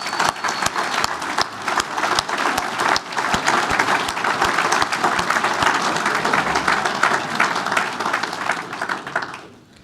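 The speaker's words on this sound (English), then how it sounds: "I'd just like to give a big round of applause to everyone here" Sustained applause from a large audience at an industry gathering honouring the IBA team, a dense, loud and steady wash of clapping over nearly ten seconds that fades out at the very end.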